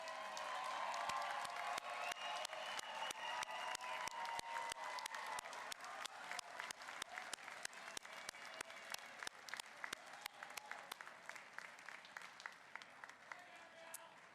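Family members of graduates are applauded at a university business and nursing graduation ceremony, a large crowd clapping steadily and continuously for over fourteen seconds, dense and even, gradually thinning toward the end.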